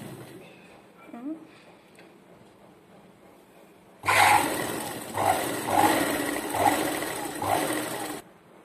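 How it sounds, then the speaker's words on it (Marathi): Sewing machine stitching a cloth face mask, starting after a quiet stretch with faint background voice, then a loud, close mechanical whirr running in rhythmic pulses for several seconds before stopping. "आपण आता या कपड्याला चारी बाजूने शिवून घेणार आहोत."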